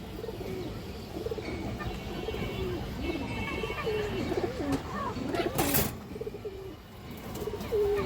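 A silver male breeding pigeon, lively and restless, coos repeatedly at close range in low throaty phrases while someone talks over it.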